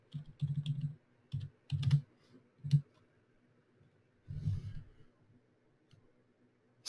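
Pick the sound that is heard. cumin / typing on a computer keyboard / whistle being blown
typing on a computer keyboard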